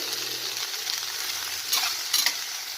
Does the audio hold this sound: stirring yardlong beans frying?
yes